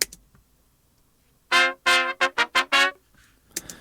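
Trumpet samples run through Neve 1073 and Studer saturation emulations, playing a short phrase of six crunchy, bright staccato notes after a quiet pause, close and clear with no talking.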